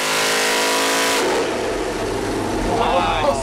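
A supercharged Cadillac LSA 427 V8 revs hard on a dyno, tuned with one more degree of timing. The engine roars loud and close as it climbs steadily, then holds near its peak with a rough, raspy edge.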